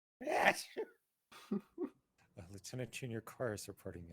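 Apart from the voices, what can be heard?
sneeze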